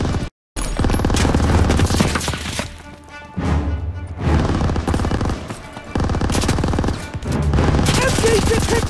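Dense rattling gunfire in the WWII shooter Call of Duty WW2, with loud rifle and machine-gun bursts and booms repeating across the scene, broken by brief lulls and a short dropout near the start.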